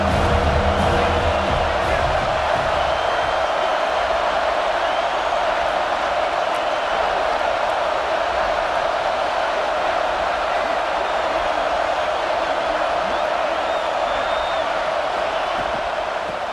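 Stadium crowd in the video game College Football 26 at an Alabama home game against Vanderbilt, a steady, dense roar of cheering that holds at an even level throughout, broad and distant like a full stadium.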